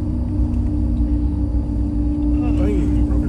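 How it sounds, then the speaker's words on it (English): Car tires roar steadily on a wet road at night in Cape Coral, a constant low rumble heard from inside the vehicle, with a faint whistle of other sounds near the end. "I love how you can hear our tires roaring."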